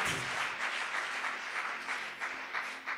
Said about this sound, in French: Put your hands together for the word of God.